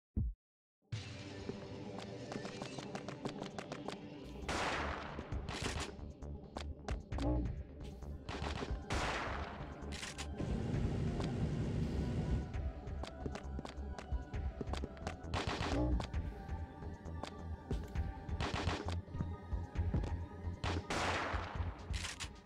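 Shotgun blasts from the Parasite Eve 2 video game, played on Nightmare Mode, ring out as loud, sharp booms every few seconds over a steady bed of in-game music and ambience.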